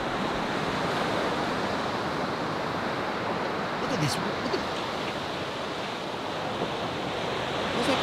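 Ocean waves wash and break near the shore in a steady, broad roar with wind buffeting the microphone, and a person speaks briefly over the surf.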